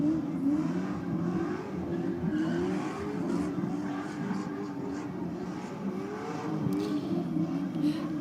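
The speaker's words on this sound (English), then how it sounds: "That's going to be a toasty VY Commodore at the end of this skid." A Holden VY Commodore skids and revs on a clay race track, the engine droning loudly and steadily at high revs with faint tyre noise, heard from a distance with crowd or commentary ambience.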